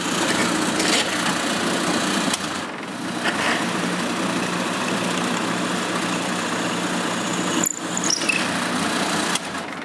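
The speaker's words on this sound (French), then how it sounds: "Je perce donc un trou au centre des 2 morceaux." A drill boring a hole through the center of two wood pieces in a woodworking shop, a loud, close, continuous motor whine with brief dips as the bit cuts, no voices.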